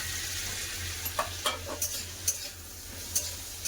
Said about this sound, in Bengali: ভালো করে মিশিয়ে ভেজে নেবো